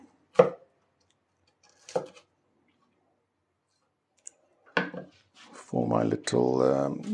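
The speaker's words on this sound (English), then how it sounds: "I'm cutting onions now for my little" A few sparse knife chops on a cutting board as onions are cut for a curry, isolated thuds separated by silence, followed by a person talking.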